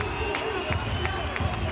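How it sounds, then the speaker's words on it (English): A roaring arena crowd at an MFC mixed martial arts fight event, a steady loud wash of noise with scattered shouts and thumps, while a commentator talks over it. "Listen to this crowd."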